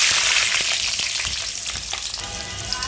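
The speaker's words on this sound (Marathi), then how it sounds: "आता आपण याला फोडणीला लसूण घालूया" Garlic frying in hot oil for a tempering, a bright, loud sizzle with crackles and pops that eases slightly over a few seconds, no voices present.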